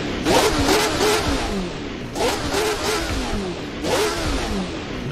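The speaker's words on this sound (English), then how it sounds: "Nice exhaust" A 1970s Formula 1 car's exhaust in a sim racing game revs up in three loud surging bursts, each rising pitch sweep fading into a whooshing drone, close and steady with no talking.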